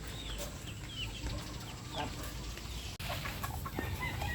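Backyard chickens, including roosters and gamefowl, cluck steadily at feeding time, with short calls rising over a constant farmyard background.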